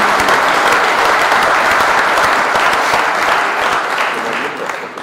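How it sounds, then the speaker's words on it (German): Dense, loud applause from an audience at an agricultural week gathering in southern Hesse, a steady wash of clapping that fills the whole stretch and eases off slightly toward the end, with no talk over it. "Jetzt darf ich schon einen tobenden Applaus geben."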